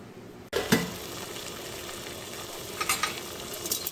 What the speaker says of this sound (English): boiling the shrimp first,